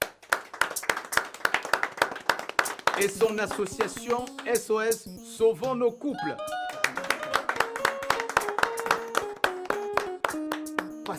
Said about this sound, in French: Et qu'on applaudisse très fort pour mademoiselle